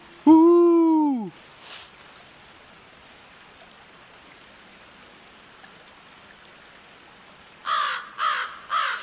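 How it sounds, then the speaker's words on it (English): A crow caws by a river on a winter hike: one long, loud, harsh call at the start, then three quick caws in a row near the end, over a steady wash of running-water hiss. "The crow up there squawking."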